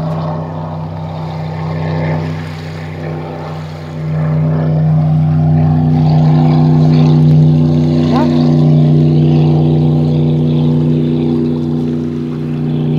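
A motorboat passes close by on the water near the shore, its engine a loud steady droning hum that swells after a few seconds and holds, with faint talk mixed in.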